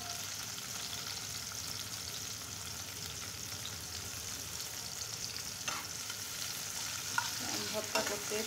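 Chopped garlic and onion fry in hot oil with a steady close sizzle, and a few light stirring scrapes and clinks come near the end.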